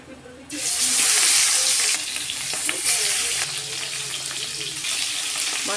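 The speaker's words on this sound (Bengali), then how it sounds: "এবার মাছগুলো ভেজে নেব।" Koi fish rubbed with salt and turmeric fry in mustard oil, a loud continuous sizzle that starts abruptly and crackles steadily, with occasional faint stirring noises.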